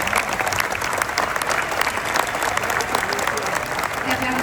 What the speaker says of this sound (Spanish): Un aplauso para Fernando Stefano